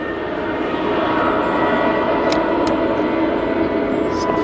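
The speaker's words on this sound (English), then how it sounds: "we've got Ryanair now departing" A Ryanair airliner departing from Manchester Airport, its jet engines giving a loud, steady broadband roar that holds constant throughout, heard from nearby with no talk over it.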